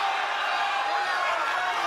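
A boxing arena crowd cheers during a fight, a broad roar of many voices filling the space and staying loud and even throughout.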